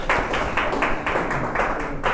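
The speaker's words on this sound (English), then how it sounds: "Clap for Sami." A class claps for a student after her turn in a university English lecture, a short run of rhythmic, fairly close handclaps from a small group of listeners, steady for about two seconds.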